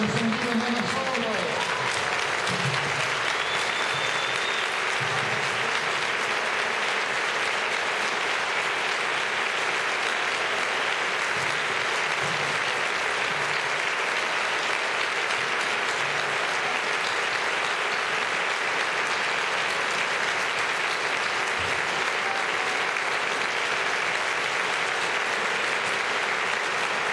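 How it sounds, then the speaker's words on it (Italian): Sustained standing applause from a large crowd at a remembrance for the dead in Aprilia, 2011, a dense steady roar of clapping that continues without a break, with faint voices mixed in. "ricordiamo con l'applauso di ricordo ai nostri morti"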